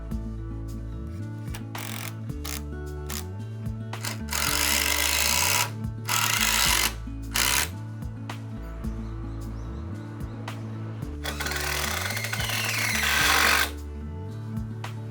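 A power tool drives screws into wooden girders during woodshed construction, with repeated whirring bursts that rise and fall in pitch, interspersed with short loud broadband clattering and rasping episodes, close and alone.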